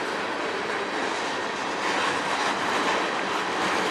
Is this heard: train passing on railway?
yes